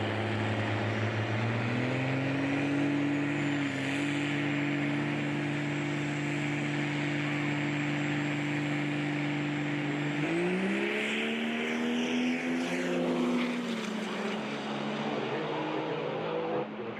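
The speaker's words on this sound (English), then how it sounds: "Mickey Underzake, the 52 Chevrolet Cummins Power goes in the left lane" Cummins diesel trucks, including a 1952 Chevrolet with Cummins power, drag race side by side at a callout challenge event, engines droning loud and steady, then pitching up sharply as they accelerate down the track.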